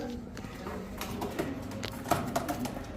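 Soft pigeon cooing and fluttery bird sounds at a pigeon market amid light background noise, with a few sharper clicks and taps near the middle.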